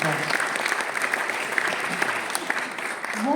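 An audience at a video game press conference applauds two guests, a steady burst of clapping with a few voices underneath.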